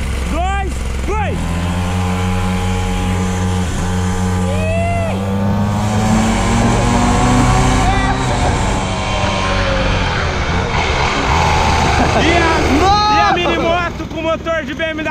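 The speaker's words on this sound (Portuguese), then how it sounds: "A mini moto com motor de BMW levou a primeira" A mini motorbike fitted with a BMW S1000 engine races in a side-by-side drag, its engine revving loudly and rising through repeated up-shifts close by, mixed with another vehicle while people shout and talk over it.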